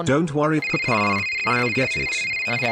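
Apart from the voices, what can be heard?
telephone ringing in a video game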